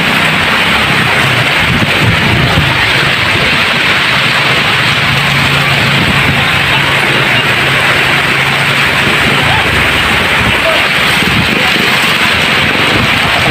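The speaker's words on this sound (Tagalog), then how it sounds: "ang lakas po ng hangin galing sa dagat" Strong storm wind blowing in from the sea drives heavy rain during a typhoon at an outdoor street-food stall, a loud, unbroken roar of gusts and pounding rain close at hand.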